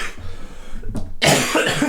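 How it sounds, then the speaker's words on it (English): A person coughs in a couple of harsh, close bursts, one brief near the middle and a louder, longer fit toward the end. "Switch away from me while I'm coughing."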